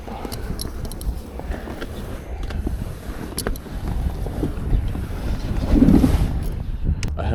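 Strong wind gusting over a fishing boat on a lake, buffeting the microphone in uneven rumbling surges that swell louder near the end, with water lapping underneath.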